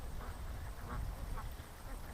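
Ducks quack softly at a distance, a few scattered calls rising over a steady low rumble of background noise.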